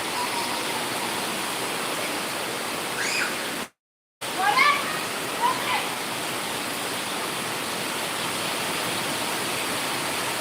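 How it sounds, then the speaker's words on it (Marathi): Heavy monsoon rain near a waterfall at Amboli in the Konkan hisses as a constant loud wash of noise, briefly cut off by a moment of silence, with a few faint bird-like chirps and no clear speech. "हे बघा पाऊस आलाय थंडी पण पुष्कळ प्रमाणात आहे"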